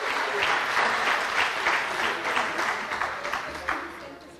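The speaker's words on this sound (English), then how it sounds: "Another big round of applause for our winners" A large audience at a university excellence awards ceremony gives sustained applause for the winners, many hands clapping densely and steadily before gradually thinning out.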